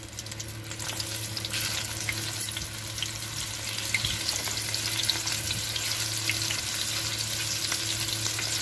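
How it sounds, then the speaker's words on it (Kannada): Chili bajji fritters frying in hot oil give a steady, busy sizzle with a fine crackling hiss, close up, over a low constant hum, with no talk. "ಈಗ ನೋಡಿ ಮತ್ತೆ ಎಣ್ಣೆ ಕಾಯಿಸ್ಕೊಂಡಿದ್ದೀನಿ. ಈಗ ಮತ್ತೆ ಇದನ್ನ ಹಾಕಿ ಕರಿತಾ ಇದ್ದೀನಿ"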